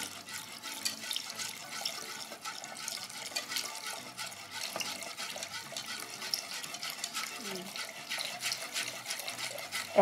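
Milk thinned with water poured gradually into a béchamel sauce while it is stirred, giving a steady, close liquid pouring and sloshing sound that runs throughout with light stirring noise.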